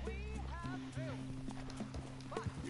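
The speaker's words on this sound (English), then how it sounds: "Will you hurry up and get on your horse, man?" Horse hooves clip-clop at a steady trot in the video game Red Dead Redemption II, close and fairly loud, with a whinny and a low steady hum underneath while voices talk over the hoofbeats.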